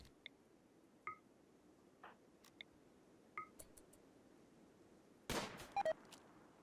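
Scattered gunfire from colonists in the RimWorld video game: a few sparse, faint, single shots through the first seconds, then a louder clustered burst of shots near the end, with no talk.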